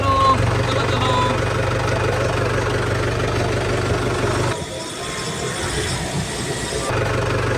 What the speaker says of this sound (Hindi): अपना ट्रैक्टर गाड़ी स्टार्ट करो